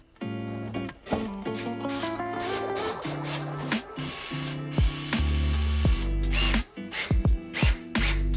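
A power drill whirs in repeated short bursts as screws are driven into a smart air vent, close up, with pauses and clicks between each run.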